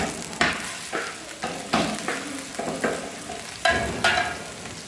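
Minced meat sizzles and crackles in hot oil, with repeated bursts of louder frying as it is stirred, close and without talking.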